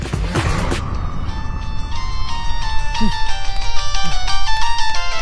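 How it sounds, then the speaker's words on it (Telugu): A mobile phone ringtone plays a repeating electronic melody that grows louder over a few seconds, mixed with background noise and voices at an outdoor match. "నీకు ఫోన్"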